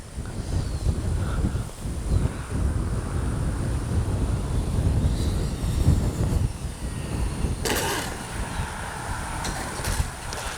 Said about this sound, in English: And then the wind dies. Just that quick. And then it's back.